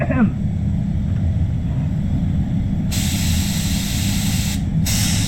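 A spray gun applies PPG LVC-105 glass clear coat, giving a steady, loud hiss that runs the whole time, brightening and intensifying partway through, cutting off briefly and then resuming.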